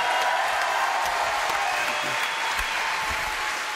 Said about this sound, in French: Applaudissants pour ces jeunes gens, en tout cas, qui nous viennent de Deux Alpes